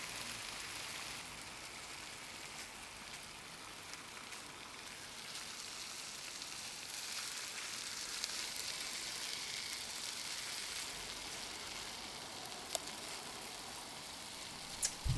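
Soup heating in a pot on a stove in the Cooking Simulator video game gives off a steady, faint sizzling hiss like light rain, continuous throughout with a couple of small clicks near the end.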